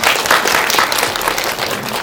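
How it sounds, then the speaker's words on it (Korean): An audience applauding at a cinema talk event with a poet and a film director, loud, dense and continuous clapping from a crowd throughout. "박수 한번 부탁드릴게요"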